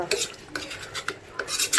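Metal spoon scraping and stirring mutton in a pot for mutton thokku, a few quick rhythmic scrapes and clinks, close and fairly loud, no voices.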